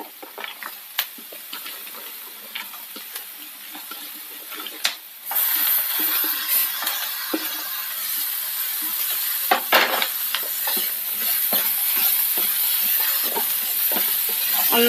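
Jackfruit seeds and grated coconut are stirred in a pan for thoran, with scraping and stirring strokes over a soft hiss that grows into a steady sizzle partway through.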